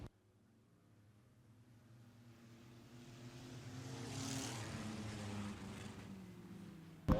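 Hobby stock race cars at Wagner Speedway accelerating under the green flag, engine roar building from faint to a full rising drone before a sudden sharp noise at the end.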